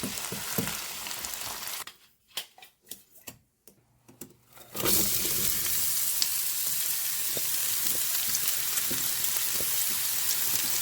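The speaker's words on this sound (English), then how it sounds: "Okay, so now let's caramelize some onions." Onions caramelizing slowly over low heat in a pan give off a steady, close hiss of frying, briefly broken by a few seconds of softer knocks before the sizzle resumes.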